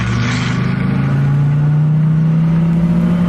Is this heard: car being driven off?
yes